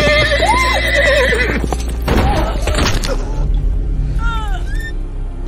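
A horse gives a loud, wavering whinny up close, followed by heavy hoof thuds and clopping on the ground. Softer high chirps come near the end.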